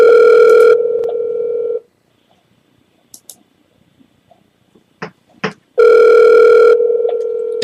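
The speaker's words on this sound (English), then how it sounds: "We're dialing." A landline telephone sounds a steady, loud dial tone, goes quiet for a few faint clicks as the number is dialed, then the tone returns just as loud.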